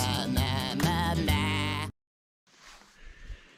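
Goat bleating loudly and close in a long wavering cry for about two seconds, followed by a short silence and then faint outdoor rustling.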